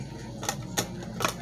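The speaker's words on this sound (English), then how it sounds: "So then you want to put your top on." A plastic lid clicks onto a Cuisinart blender jar in a kitchen, three short sharp clacks spaced across the moment, close and fairly loud over a low room hum.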